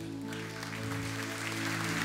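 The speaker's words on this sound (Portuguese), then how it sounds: "faremos uma salva de palmas a Jesus" A congregation claps for Jesus at the close of a Catholic televised worship program led by a priest, the applause fairly soft and continuous over a steady low tonal hum.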